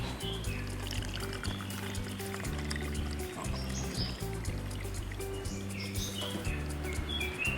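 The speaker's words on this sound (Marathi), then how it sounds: "एक वाटी पाणी आपण ह्यामध्ये घातलं आहे" Water pours from a bowl onto sugar to start a syrup, a steady close liquid splash under a musical background, with bird-like chirps mixed in.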